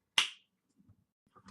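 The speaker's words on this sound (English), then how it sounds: "I will snap my fingers and we'll be there" A single sharp finger snap cracks out close and crisp in near silence, followed by a few faint, soft rustles.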